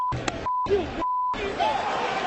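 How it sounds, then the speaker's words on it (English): Three flat, steady censor beeps cut across short bursts of profanity during a baseball game, with crowd noise swelling at the end. "Every one of those beeps was a crystal clear F word."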